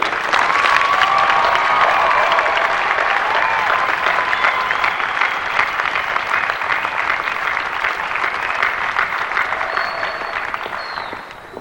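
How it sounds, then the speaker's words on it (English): An audience at a 1997 FFA state leadership conference applauds steadily, a dense, loud wash of clapping that lasts throughout with only a slight fade at the end. "I think we owe last year's team one more final round of applause for the awesome job they did"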